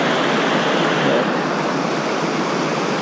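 The Bechler River in Yellowstone's Bechler Canyon, a steady broadband rush of flowing water, continuous and fairly close, with no voices.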